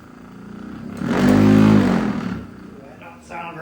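An old Pontiac Trans Am engine cranking, swelling into a loud, rough burst of engine noise that fades away after a couple of seconds, with a voice speaking briefly near the end.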